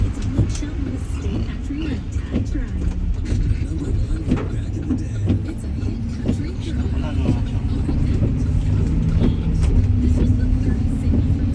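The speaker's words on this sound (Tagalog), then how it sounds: "Ito, dala ko truck." A U-Haul moving truck drives through heavy rain, its low engine rumble and road noise steady throughout with rain hiss on top, while a person talks over it.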